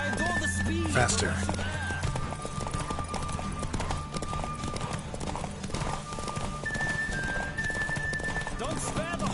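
Horse hooves gallop in a steady, driving clip-clop during a Witcher 3 race, loud and continuous alongside game music and a voice talking over the ride.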